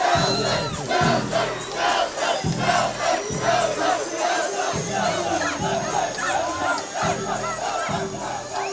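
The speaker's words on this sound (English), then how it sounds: "Of course, they're here cheering on and pumping up the crowd" The Colt Nation group in the 2019 Colorado State Fair Parade chants and cheers to pump up the crowd, loud rhythmic shouted bursts repeating about every second over a continuous crowd roar.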